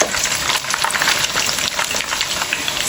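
Hot oil ladled over boiled eggs frying in a pan, a dense, steady sizzle and crackle close by with scattered pops, continuous throughout and without any talking.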